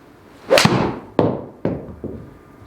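Crisp impact of a TaylorMade P790 or P760 iron striking a golf ball, one sharp loud crack followed by a few fainter thuds and echoing knocks.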